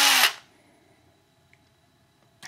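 Brief loud burst of a power drill boring a hole in a rotor mast part, a quarter-second whir at the start that cuts off into near silence, with a faint second start at the very end.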